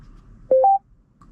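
Telephone dialing tones from a Kia car navigation system: two short clean beeps in quick succession, then a faint third tone, with no talk.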